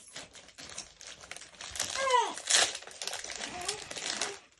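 A crinkly plastic Gaafar El Omda biscuit packet is torn open with rustling and crackling bursts that peak midway, mixed under nearby chatter in Egyptian Arabic.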